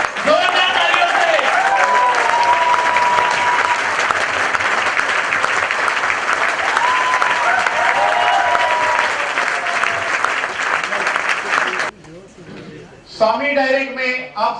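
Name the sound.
applause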